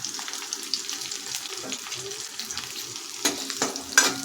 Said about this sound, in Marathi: हे थोडंसं लालसर होईपर्यंत परतून घ्यायचं कमी गॅसवरच परतून घ्यायचं आहे